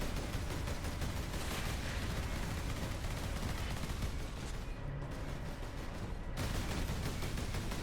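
Rapid bursts of video game gunfire, dense and continuous at close range, rattling almost nonstop with a brief dip before resuming.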